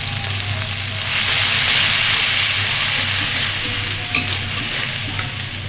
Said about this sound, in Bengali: শিম আলু ভেজে দিব অনেকগুলো